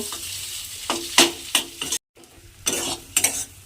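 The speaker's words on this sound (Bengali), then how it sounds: "ভাজা মশলাটা দিয়ে আমি ভালোভাবে একটু নেড়ে চেড়ে ভাজা ভাজা মতো করে নিয়েছি" A spatula stirs and fries a spiced egg mixture in a pan, making sharp, close scraping strokes over a steady sizzle, with one short silent break partway through.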